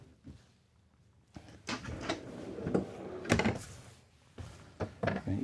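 Soft-close kitchen drawers in a Newmar Mountain Aire 4118 motorhome slide and settle shut with muffled wooden thuds and gentle rolling runner sounds, quiet and close, spread over a few seconds.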